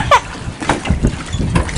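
Rainwater splashes and sloshes into a boat through an open bung hole in short bursts close by, with a brief burst of voice near the start.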